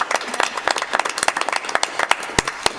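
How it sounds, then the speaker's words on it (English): Scattered clapping from a small meeting audience honoring a colleague, a thin round of individual claps with uneven rhythm, close and moderately loud, with no voices. "I give her a round of applause"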